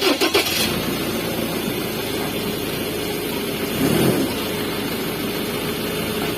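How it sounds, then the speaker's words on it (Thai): A starter cranks briefly, then a Mazda BT-50 pickup truck engine, started by remote, catches and settles into a steady idle, with one short rev partway through. "ถ้าไฟสีฟ้าติดค้างพี่แตะมันจะสตาร์ทเครื่องให้"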